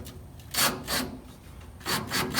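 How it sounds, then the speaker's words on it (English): A hose clamp is snugged down on a radiator hose of a 1967 Chevelle with a 496 engine, giving a few close, soft rasping scrapes in short bursts with quiet gaps between them. "Snug this hose clamp up."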